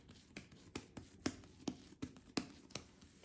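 Hands work burger bun dough into a ball on a surface, making a faint, close series of soft rhythmic pats and presses, roughly two or three per second.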